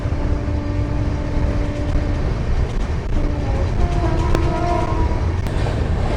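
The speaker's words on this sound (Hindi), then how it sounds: "मानसा सिटी को स्किप करती हुई हमारी ट्रेन" An express train passes Mansa station at high speed with a loud, steady rumble of carriages and rails, and a horn sounding in short tones partway through.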